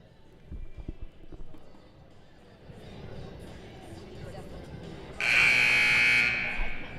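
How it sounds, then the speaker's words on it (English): Basketball game buzzer at a girls' high school state preview game, a loud sustained electronic tone of just over a second blaring over gym crowd noise and an announcer's voice. "As the second buzzer rings."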